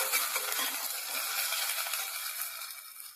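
Eggplant, ridge gourd and drumstick pieces stirred in a frying pan for Bengali shukto, a steady close sizzle with soft scraping and clinking of the spatula throughout, no voices.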